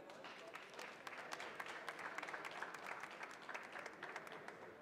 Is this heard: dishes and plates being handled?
no